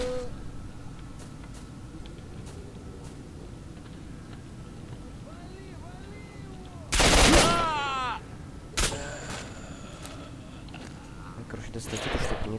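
Gunfire in S.T.A.L.K.E.R.: Shadow of Chernobyl, with one loud close burst of shots and a second sharp report after it, over quiet ambience and faint game voices.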